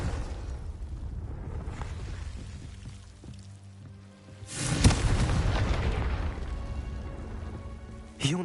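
A Confringo fire spell bursts in the Hogwarts Legacy video game, a sudden loud blast near midway that sustains as a broad roar for several seconds over steady ambient game sound, with a second sharp burst at the end.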